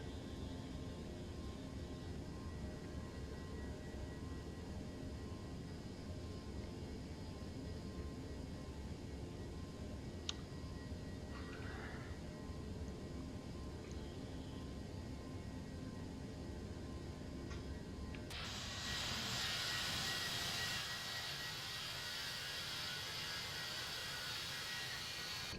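A steady, distant jet engine roar from a ToLiSs A321 airliner climbing out after takeoff in X-Plane 11 sim, with a brighter, louder swell of thrust or wind noise near the end.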